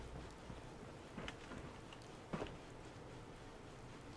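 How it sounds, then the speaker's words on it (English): Rain falls in a video game settlement as a soft, even hiss of patter, with a couple of faint low rumbles partway through, quiet and continuous with no voices. "Of course, it's raining."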